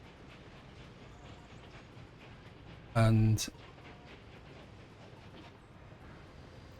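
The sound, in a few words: train running in video game Workers & Resources: Soviet Republic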